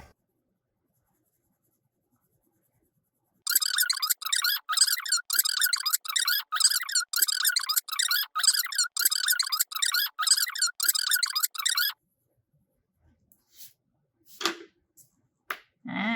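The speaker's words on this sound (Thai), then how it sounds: "ต่อไปนะคะก็จะระบายสีน้ำเงินผสมลงไป" A colored pencil shades blue onto paper in fast, rhythmic back-and-forth scratchy strokes, close and crisp for about eight seconds, followed by quiet and a few faint handling sounds.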